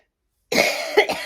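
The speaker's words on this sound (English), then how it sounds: "I can't quit coughing with this stupid bronchitis" A person with bronchitis coughs in a harsh, close burst of about three chesty hacks after a moment of silence.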